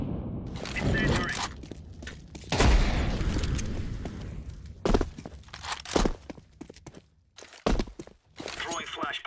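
Incendiary grenade thrown in Counter-Strike 2, a loud whooshing burst followed by a sustained roaring flame and scattered thuds and footsteps, with a voice talking in the mix.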